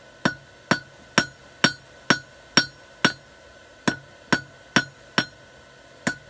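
A hammer strikes hot steel on an anvil, drawing a small sharp taper on the tip of a hook being forged, fourteen crisp ringing blows at an even, steady rhythm, close and loud with no talk.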